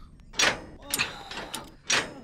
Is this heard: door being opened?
yes